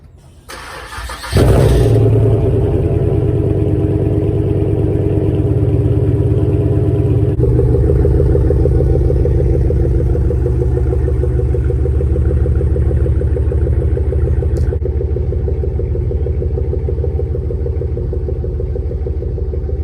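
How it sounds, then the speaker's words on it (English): A Chevrolet Monte Carlo SS cranks briefly and fires on a cold start, then settles into a loud, steady, rumbling idle up close, with the tone shifting slightly partway through. "we're about to go hop in here, get a cold start, and take the beast for a ride"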